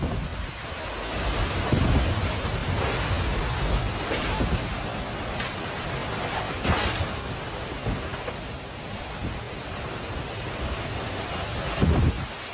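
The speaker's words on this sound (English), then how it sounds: "a super intense tornado went past this guy's house in Illinois." An intense tornado passing a house in Illinois, heard as a dense, roaring wall of wind noise with rumbling surges and gusts throughout, loud and steady, with no clear voices.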